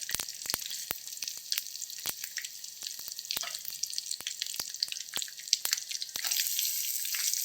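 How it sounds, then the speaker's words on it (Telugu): Dried red chillies and curry leaves sizzle and crackle in hot oil, with a steady bright frying hiss broken by frequent sharp pops and spits throughout. "ఈ చిటిపట్లు ఆడిన తర్వాత ఎండుమిర్చి, కరివేపాకు అవి వేసుకోవాలి"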